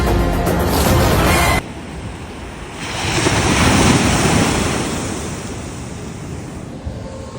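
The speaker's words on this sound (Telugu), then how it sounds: "ఇంకా వచ్చేసి అలలు." Surf breaks and washes up on Vizag beach at dawn, a broad roaring swell that rises and recedes, heard close with wind gusting across the microphone.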